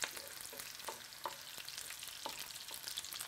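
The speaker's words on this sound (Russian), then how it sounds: "Лук начинает жариться" Onion frying in hot oil, a steady sizzle with scattered crackles and pops, close up and with no voices.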